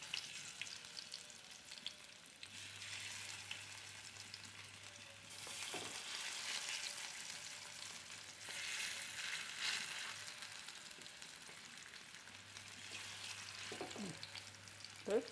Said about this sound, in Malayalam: മീൻ കുരുമുളകും മഞ്ഞൾപ്പൊടി ഉപ്പ് മാത്രം ഇട്ടിട്ടാണ് പൊരിക്കുന്നത്.